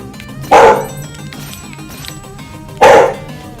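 A puppy gives two loud, sharp barks spaced a couple of seconds apart, close by, with quiet background between them.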